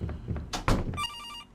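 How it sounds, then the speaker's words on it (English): A telephone in an RPG Maker video game rings with a steady electronic trill that starts after a couple of dull thumps and carries on clearly and evenly to the end. "The phone's ringing."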